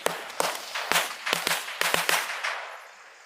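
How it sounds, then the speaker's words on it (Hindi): Diwali bidi bomb firecrackers set off on the ground at night, bursting in a rapid string of sharp, loud cracks, about a dozen in irregular quick succession over a few seconds with no one talking. "तो ये बीड़ी बम बहुत ही जोरदार आवाज़ के साथ ब्लास्ट"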